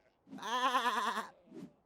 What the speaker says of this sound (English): There's just one last sheep to get back to the pen.